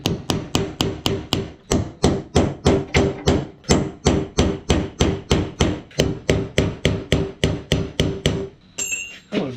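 Hammer blows driving a Jeep Wrangler TJ fuel pump locking ring loose, about twenty-five sharp metallic strikes in a fast, even rhythm, close and loud, with no talking.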